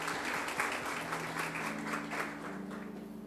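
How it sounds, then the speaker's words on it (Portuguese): Warm applause from a church congregation, many hands clapping together, with a low hum of voices and music underneath. "Uma salva de palmas para a nossa visitante."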